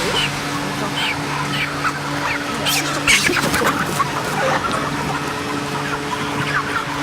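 Broiler chickens about 40 days old crowded in a poultry shed, a steady chorus of clucks and squawks over a constant low mechanical hum, with no talk.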